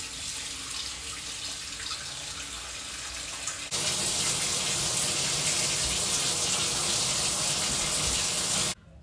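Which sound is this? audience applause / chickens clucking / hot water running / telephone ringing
hot water running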